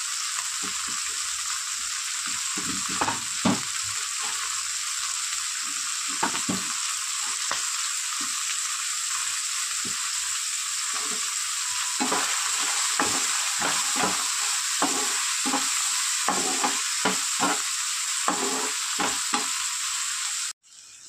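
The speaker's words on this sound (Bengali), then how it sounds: "এবার এর সঙ্গে দিয়ে দেবো ক্যাপসিকামগুলো, কাঁচা লঙ্কাটাও দিয়ে দিচ্ছি।" Capsicum and green chilli frying in a pan for a chicken snack, a constant loud sizzle with repeated stirring scrapes in uneven bursts, no talking, ending abruptly.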